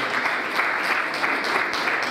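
An audience at a leadership event in Lagos claps steadily for about two seconds after a safety commission representative is introduced, a dense, even patter of many hands filling the room with no voices over it.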